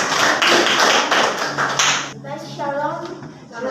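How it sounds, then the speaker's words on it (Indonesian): A classroom audience claps after a group presentation, a dense, close burst of applause for about two seconds that then fades while people talk. "Kita beri aplaus kepada"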